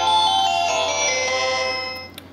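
An itel Power 900 keypad mobile phone plays its ringtone, a bright electronic melody sounding close and clear for about two seconds before cutting off, with no talking.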